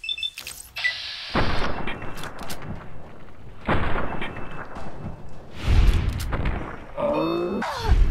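Gunfire in Fallout: New Vegas: three heavy, booming shots with long rumbling tails, spaced a couple of seconds apart, then a brief crackling rattle at the end.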